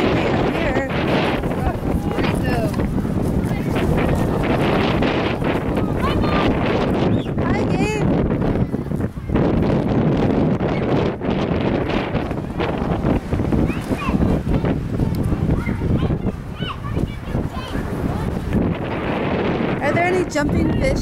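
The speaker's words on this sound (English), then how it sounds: "It's kind of windy up here." Strong wind buffeting a microphone outdoors at an elevated spot above water in Tennessee with kayak rentals nearby, loud rumbling gusts throughout with people talking underneath.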